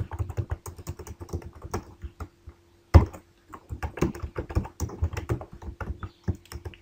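Typing on a computer keyboard while writing PHP code, a close, fast irregular patter of key clicks with a brief pause and one louder thunk midway, then more bursts of typing.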